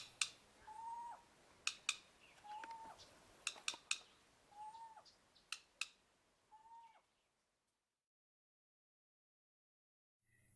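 A grey-headed bushshrike snaps its bill in sharp, loud, clipper-like clacks, several single and paired snaps spread irregularly over about seven seconds among whistled bird calls, then silence.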